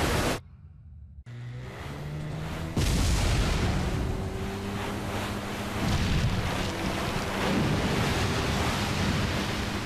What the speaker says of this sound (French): Maintenant, nous avons des vagues derrière nous.